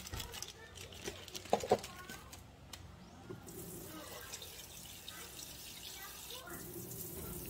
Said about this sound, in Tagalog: naglagay lang ako ng water, tapos hot water.